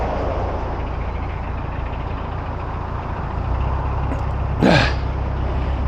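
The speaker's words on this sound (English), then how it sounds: "I'm going to just go into tick over." A narrowboat engine idles in tick over, a steady low rumbling throb close by and continuous throughout, with a brief whistling chirp near the end.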